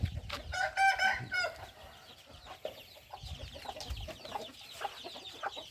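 A fighting rooster clucks in a quick series of bright calls, then gives a short crow, followed by scattered softer clucks and farmyard rustle at moderate distance, with no one talking.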